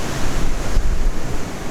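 Sea waves breaking on dark rocks along the Causeway Coast, a loud, steady wash of surf with wind buffeting the microphone and a heavier surge midway.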